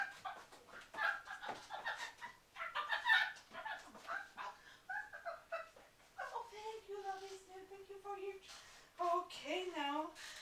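Chickens clucking inside a hen house, a run of busy, uneven calls rising and falling at close range, with a person talking over them for much of the stretch.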